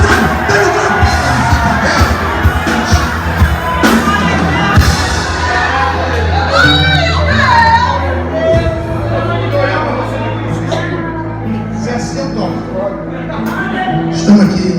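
A church congregation shouts, whoops and cheers loudly and without a break. Voices yell over the crowd noise throughout.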